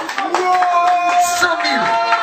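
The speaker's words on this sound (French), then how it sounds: "Applaudissez pour ça." Scattered clapping from a crowd inside a selfie bar, brief and lively, mixed under loud voices and background music.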